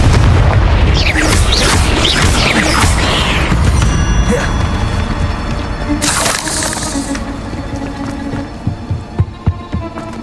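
Spell blasts boom through a fantasy video game battle, with heavy low rumbling explosions layered over a dense, loud soundscape, a sharp bright burst midway and a few thudding impacts near the end.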